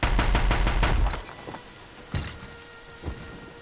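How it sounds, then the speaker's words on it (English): A heavy machine gun in Horizon Zero Dawn fires a loud, rapid burst lasting about a second, followed by a few scattered, fainter impacts and thuds. "so we can pick up heavy machine guns like freaking Darksiders"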